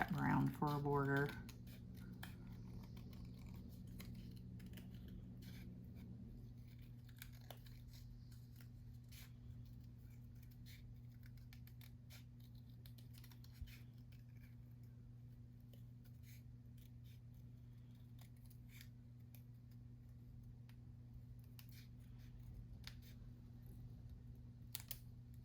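Scissors cutting around a paper craft piece for a border: quiet, scattered snips and crisp clicks over a low steady hum, with a brief voice at the start.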